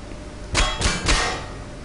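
A crowbar smashes an object in the Black Mesa video game, giving three sharp metallic clangs in quick succession, each ringing briefly before the next, close and loud with no talk.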